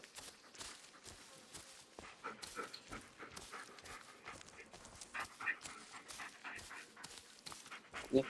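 A dog in the Blair Witch video game pants in quick, faint rhythmic breaths with occasional soft whimpers, mixed with light footstep-like rustles throughout.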